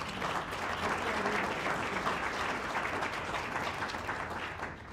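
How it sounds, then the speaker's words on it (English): Sustained applause from an audience at an annual meeting and awards celebration, steady dense clapping that holds at an even level for the whole stretch, with no voices standing out. "Let's have a round of applause for Rachel"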